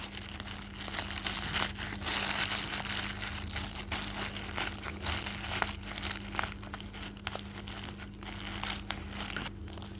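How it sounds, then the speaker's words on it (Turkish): A plastic bag crinkles and rustles in close, irregular bursts for about ten seconds as it is stuffed inside a taped squishy, over a faint steady hum, with no talking. "Şimdi bunun içine poşet koyacağız yine."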